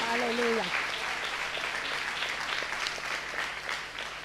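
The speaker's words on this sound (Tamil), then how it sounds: "நல்ல ஒரு கைத்தட்டு தான் கொடுங்கள் ஆண்டவருக்கு." A church congregation at a Tamil Sunday worship service claps together in praise, a broad, fairly steady burst of many hands at moderate level, with a brief voice at the start before the clapping carries on alone.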